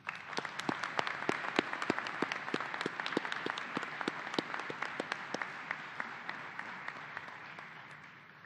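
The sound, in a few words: audience applause at law school commencement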